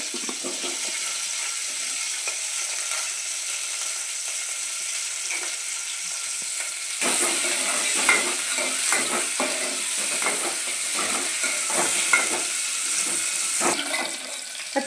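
Green chillies fry in hot oil for an old-style fish chutney, giving a steady broadband sizzle throughout; partway in it grows louder with crackling pops and stirring clatter, with no talking.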